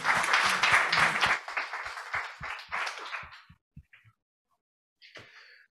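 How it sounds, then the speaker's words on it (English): An audience at a conference on the blue economy applauds, a dense burst of clapping that thins into a few scattered claps and then a brief final patter. "Round of applause."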